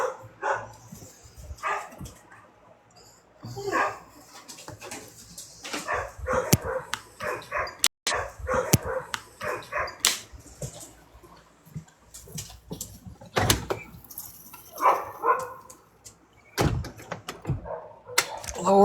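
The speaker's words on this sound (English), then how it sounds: "the neighbor's dogs" The neighbor's dogs bark in irregular bursts of sharp, loud barks and yips, with brief quiet gaps between volleys, set against a faint background.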